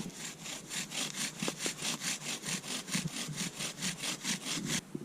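A bow drill spindle spins against a wooden hearth board with rapid, regular back-and-forth rasping strokes, close and fairly quiet, about four strokes per second.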